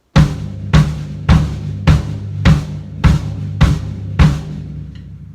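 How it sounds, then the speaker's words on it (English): Kick drum and floor tom struck together on steady crotchets, eight loud, booming hits spaced evenly about half a second apart, with the last one ringing out alone. "Kick drum and floor tom together at the same time."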